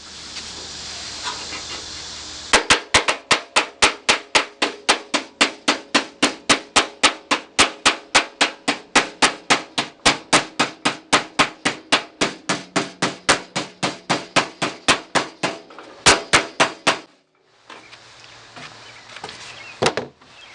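Loud, rapid metallic hammer blows as a body hammer beats a 1967 Mustang door skin, a long steady run of sharp strikes with brief pauses near the end, close up.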